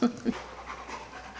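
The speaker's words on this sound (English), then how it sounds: "So that's all that heavy breathing you hear in the background." A dog pants heavily in the background, quick close breaths over a brief stretch with a couple of louder huffs at the start.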